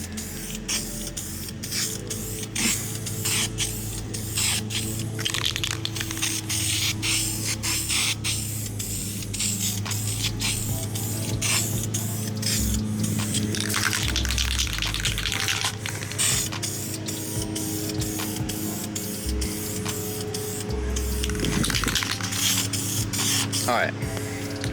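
Tint is sprayed onto Crown Vic taillights from an aerosol can in sweeping passes, giving a continuous hissing spray with short breaks. A low background hum runs under it outdoors.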